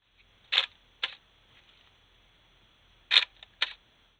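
A Nikon D750 camera with a stuck mirror fires its shutter: two pairs of sharp mechanical clicks, close and alone, separated by a quiet pause of about two seconds.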